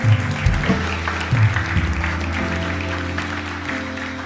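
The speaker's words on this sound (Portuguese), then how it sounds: "Dá uma salva de palmas para ele, em nome de Jesus." A church congregation claps for someone during a sermon, a fairly loud spread of applause that rises and fades over a few seconds with a hum of the room beneath.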